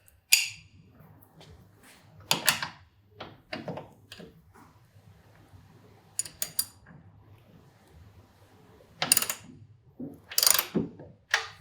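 A 1/2 inch drive ratchet works a 22 mm fastener on a Kawasaki Ninja 400 during a kickstand removal. Scattered clicking and metallic clattering bursts come close and separated by quiet gaps.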